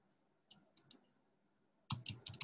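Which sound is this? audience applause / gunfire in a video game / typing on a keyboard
typing on a keyboard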